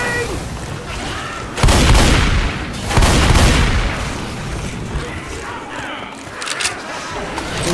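Bursts of gunfire and heavy booming blasts in the zombie shooter Left 4 Dead 2, loud and close, with two big explosive hits early on over continuous crackling shots and shouting voices.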